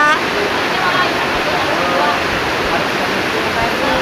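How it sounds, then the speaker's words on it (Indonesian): Heavy rain pouring down in a steady, dense broadband roar, close and loud and unbroken throughout, with no clear speech over it. "Tapi hujannya deras banget"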